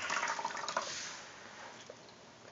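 Water from a tap splashes steadily into a basin, close and fairly loud, with the spray fading slightly over a couple of seconds.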